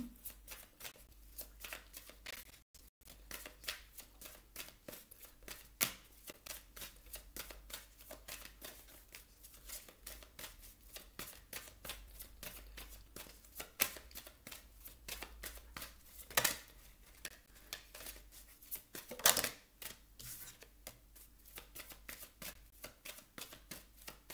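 Oracle love cards being shuffled by hand, a steady run of soft papery riffles and flicks close up with no talking.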